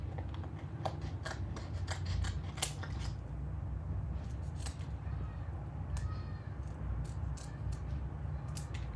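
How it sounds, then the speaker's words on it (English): Scissors cut through craft material in a series of sharp, close snips at an irregular pace over a steady low background hum. "I'm gonna start cutting"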